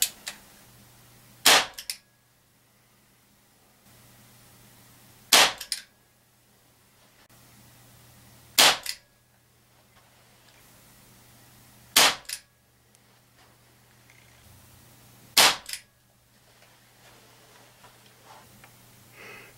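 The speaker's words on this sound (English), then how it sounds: "we'll run it across the crony for 5 shots and see what kind of power we get" A Crosman 357 CO2 pellet revolver fires five sharp, loud shots across a chronograph, evenly spaced about three seconds apart, with near-silence between them.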